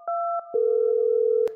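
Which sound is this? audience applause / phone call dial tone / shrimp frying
phone call dial tone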